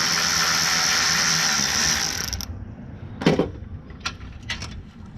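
A battery-powered ratchet on an extension spins a 10 mm brake line bracket bolt out, first a loud continuous whirring buzz for about two seconds, then it stops and a few short clicks and knocks follow nearby.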